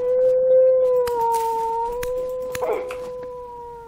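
In the survival game Vintage Story, a wolf lets out one long sustained howl, a clear steady tone that wavers slightly, with faint clicks and rustles behind it.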